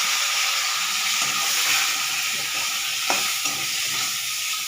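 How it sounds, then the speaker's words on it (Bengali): Cumin seeds and dried red chillies sizzle in hot oil as ground spices go in for Gobindobhog rice khichuri, a loud steady frying hiss with a few soft stirring knocks. "জিরে, শুকনো লঙ্কা ফোড়ন দিলাম, দিয়ে এবার মশলাগুলো দিয়ে দিলাম।"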